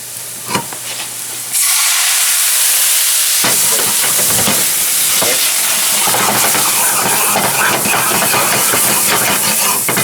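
Alcohol flambéing in a pan for an eggplant lasagna sauce: a quiet start with a few light knocks, then a loud, steady roaring hiss and sizzle that fills the rest, with occasional clatter of the pan.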